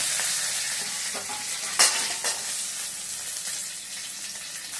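Curry leaves, mustard seeds and cumin fry and crackle in hot oil while being stirred, a steady loud sizzle with a few sharper pops and scrapes, no voices.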